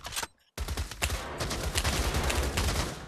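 Gunfire in the Pavlov VR shooter game, a rapid cluster of close, sharp shots in quick succession after a short gap, loud and dense with no speech over it.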